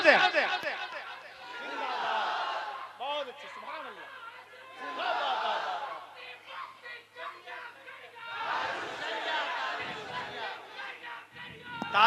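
A crowd at a religious gathering shouts back loudly in unison in response to a chant, swelling in repeated waves of massed voices with a lone speaker between them.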